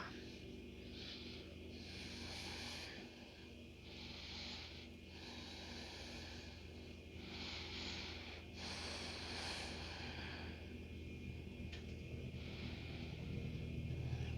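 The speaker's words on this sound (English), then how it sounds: "Deep breathing." Slow, deep breaths during a yoga session, close and steady, with long inhales and exhales rising and falling in a regular rhythm over a constant low background hum.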